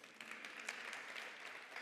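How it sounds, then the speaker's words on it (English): An audience at a fireside chat applauds in a dense, continuous patter of claps that is fairly quiet and steady over the brief moment. "Give me a round of applause."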